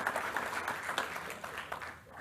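Audience applause at a township state-of-the-township address, a steady wash of many hands clapping at moderate level, filling the whole short stretch without a break.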